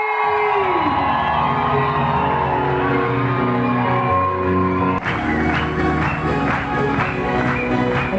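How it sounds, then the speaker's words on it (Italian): At an Italian wedding reception at Tenuta di Sipio, a loud sustained musical tone gives way halfway through to guests cheering, whooping and clapping for the newlyweds, a lively crowd roar over continuing music. "Applauso per gli sposi con Strillo, vai!"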